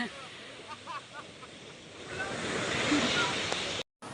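Ocean surf washes continuously onshore, the broadband roar swelling louder in the second half before a brief cutout, with faint voices in the background.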